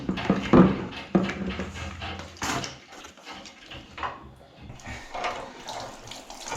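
Water drains from an iron pipe radiator into a bucket, splashing and pouring in uneven bursts, loud at first then settling into a softer trickle with quieter gaps.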